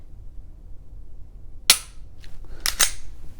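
Dry-fire trigger presses on a Glock 25 .380 pistol give two or three sharp, close metallic clicks, the first alone and the last two nearly back to back, against a quiet room.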